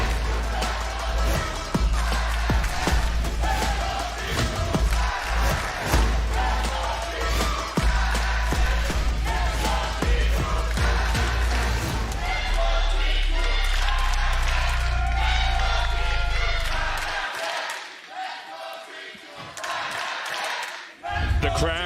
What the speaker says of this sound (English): The crowd taking turns to cheer on their teams